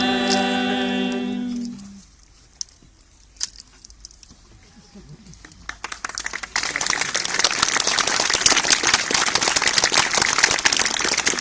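Applause breaks out after the blessing of a building's first stone, starting with a few scattered claps and swelling into loud, sustained clapping from a crowd that includes the masons.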